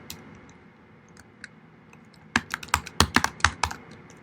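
Typing on a computer keyboard while renaming layers in an image editor: a few scattered faint key taps, then a close, rapid burst of keystrokes and clacks in the last two seconds.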